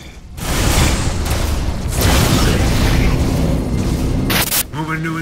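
Broadside cannon fire in the space game Rebel Galaxy comes as a loud, dense roar of booming blasts that fills the whole stretch, ending in a sharp burst and a short electronic tone.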